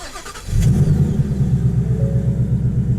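A 2019 Ford Mustang GT with a manual gearbox cranks and fires up, its V8 catching with a loud burst and then settling into a deep, steady, throbbing idle close by, with no talking.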